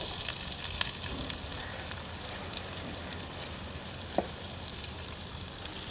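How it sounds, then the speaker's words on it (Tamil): Garlic and small shallots fry in oil left over from frying dried fish for a dry fish curry, giving a steady, even sizzle and crackle throughout, with a single faint clink partway through and no talking. "இந்த கருவாடு பொறிச்ச எண்ணெயிலேயே நாங்கள் வந்து உள்ளியை முதல்ல போட்டுருவோம் அடுத்தது வெட்டி வச்சிருக்கிற சின்ன வெங்காயம்"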